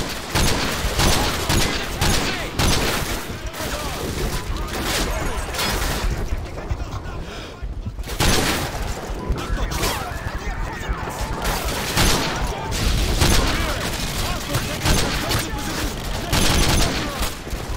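Sustained gunfire and explosions in the video game Modern Warfare 2, dense rattling bursts and booms continuing almost throughout, loud and close, with radio-style voices talking over the battle.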